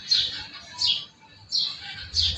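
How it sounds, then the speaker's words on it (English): A single bird chirps and calls in four short, bright bursts spaced roughly half a second apart, fairly close and clear against a quiet background with no talking. "Chirping of the bird"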